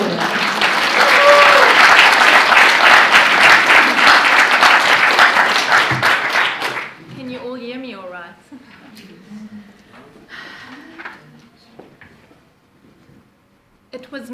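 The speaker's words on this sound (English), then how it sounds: "So give a long clap while she settles that mic in" Audience applause at a spoken arts event, a long sustained clap for about seven seconds that then fades into quieter room sounds and scattered noise.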